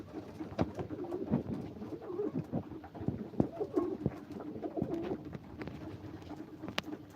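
Pigeons crowding onto each other to eat from a gas-stove lid coo steadily and close by, with scattered sharp pecks and wing flaps throughout; no one speaks.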